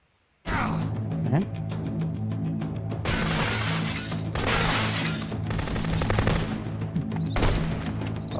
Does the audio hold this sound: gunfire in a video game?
yes